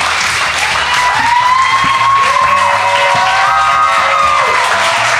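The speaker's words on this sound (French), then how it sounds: "Bonne main d'applaudissements, Yvon Deschamps, Claude Meunier." Loud, sustained applause with cheering and whoops from a studio audience at the close of a talk show featuring Yvon Deschamps and Claude Meunier, steady and dense throughout.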